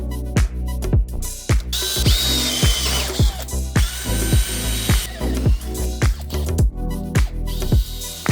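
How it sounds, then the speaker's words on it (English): A power drill whirs loudly and steadily, with rapid repeated ratcheting bursts as a 6mm bit bores a pilot hole, close up. "I'm drilling with 6mm drill bit first to make a pilot hole"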